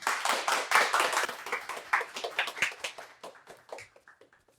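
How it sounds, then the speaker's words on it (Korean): Applause from a modest forum audience welcoming a speaker, individual claps distinct and fairly close, gradually thinning out and fading toward the end. "큰 박수로 맞이해 주시면 감사하겠습니다"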